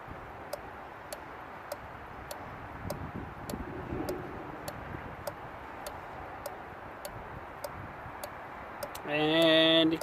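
A relay tester cycles a Fiat Doblò HVAC blower relay ten times: a steady series of sharp, evenly spaced mechanical clicks over a low background rumble, ending in a brief electronic beep.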